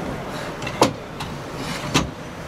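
Rear flap on a Hymer VisionVenture motorhome being lowered, giving two short mechanical thumps about a second apart with a faint motor-like hum in between.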